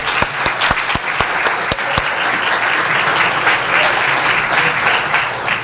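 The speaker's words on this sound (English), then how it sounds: "Let's give a round of applause to our sheriff." An audience at a Suncoast Tiger Bay luncheon applauds Pinellas Sheriff Bob Gualtieri, loud sustained clapping with several sharp, distinct claps standing out early on, continuing evenly for nearly six seconds.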